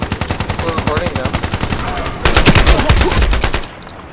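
Rapid automatic gunfire from the video game Ironsight rattles in fast, even bursts, growing denser and louder partway through before cutting off near the end. The sound is close and intense.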